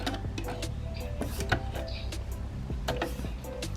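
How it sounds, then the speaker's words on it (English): A hand-cranked sewing machine stitching slowly over a thick seam, giving a steady run of soft mechanical ticks and knocks over a low continuous rumble. "So now I'm just hand cranking."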